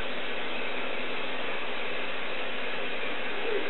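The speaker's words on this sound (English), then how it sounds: "just take a little hairspray and just spray it over." A steady, hissing hairspray spray runs continuously at close range over a silk plant, with no pauses and no voices.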